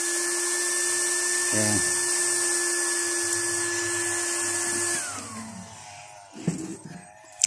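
A 12-volt blower on a waste oil stove, run through a speed controller, gives a steady high whine and airy hum that drops in pitch as it is slowed. A person speaks briefly over it, and clunks follow at the end.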